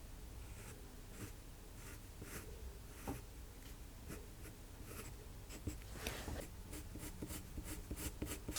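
A mechanical pencil and coloured pencils scratch and shade on paper, making soft, close, continuous strokes with faint rhythmic sweeps.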